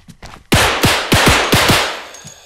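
Loud, close gunshots in the bodycam horror game Amber Alert, five or six sharp reports in quick succession with short echoing decays.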